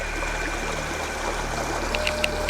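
Water flows steadily along a forest stream, a continuous close rushing with small trickling splashes and no voices.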